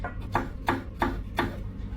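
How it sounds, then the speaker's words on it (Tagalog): A knife slices okra on a cutting board in four evenly spaced, crisp chops over a low steady background hum, with no talking. "Hiwain lang natin ang okra"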